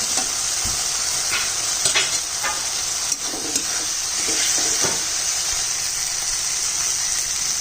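Fried potatoes are stirred into a sizzling, spiced bacha fish chorchori in the pan, giving a steady hiss of frying broken by soft spoon scrapes and clinks close up.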